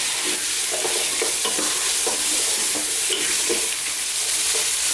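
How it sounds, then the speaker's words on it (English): Chunks of beef are tossed and browned in a hot pan, with a loud, constant sizzle broken by repeated scraping and stirring clatters up close. "let's just throw this around in the pan."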